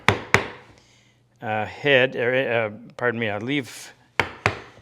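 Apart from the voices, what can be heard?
chisel chopping into wood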